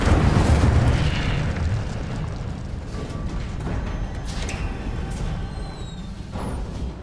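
Incendio fire spell cast in Hogwarts Legacy: a loud whooshing burst of flame that roars at once, then settles into a crackling, rumbling burn with a few small pops and flares.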